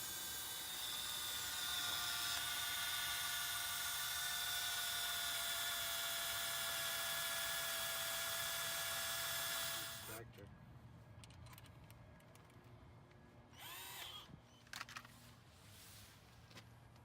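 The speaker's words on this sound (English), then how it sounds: "First we come in, we drill it." A power drill whines steadily and loudly as it drills out a seized brake rotor retaining screw on a 2007-2013 Acura MDX SH-AWD, then cuts off abruptly, leaving quieter shop noise with brief clatters.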